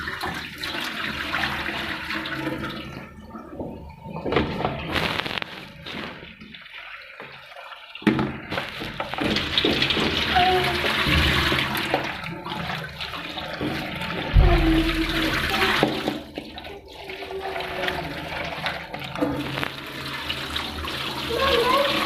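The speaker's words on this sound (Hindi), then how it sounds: "अब हम क्या करेंगे कि इसको छन्नी में से गुजार लेंगे।" Water running from a tap while poppy seeds are rinsed through a sieve, a continuous splashing rush that swells and briefly drops out, close by, with a voice speaking over it at times.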